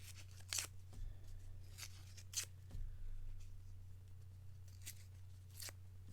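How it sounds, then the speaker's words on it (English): Sheets of paper bearing names are torn into small pieces, giving several brief, faint rips spaced irregularly over a steady low hum, with no talk. "So now I'm tearing this paper, and now I'm going to tear each name."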